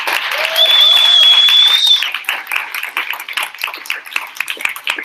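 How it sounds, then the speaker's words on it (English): An audience at a basic income giveaway event breaks into applause. A thin, steady high ring sits over the start, then the clapping thins into scattered, uneven claps. "a round of applause for you"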